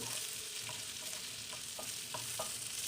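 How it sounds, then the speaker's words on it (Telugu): Capsicum pieces fry in a pan with a steady broadband sizzle, and a few soft stirring scrapes recur at irregular moments throughout; no voices are present. "తర్వాత క్యాప్సికం ముక్కలు కూడా వేసి వేయించుకోవాలి"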